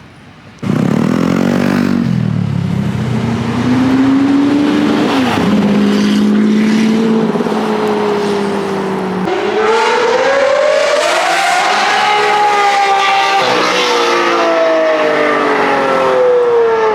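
Lamborghini Aventador S sports cars rev and accelerate loudly on Tokyo streets, engines climbing through rising, sweeping pitches with brief drops between gear changes, sustained close and powerful throughout.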